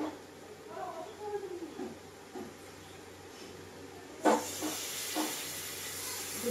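Water poured into spices frying in a pan sets off a sudden burst of hissing sizzle that keeps going, close and quiet, after a stretch of faint background with a voice speaking.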